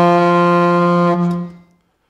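A single sustained low D on alto saxophone, steady and full, held for over a second before fading out.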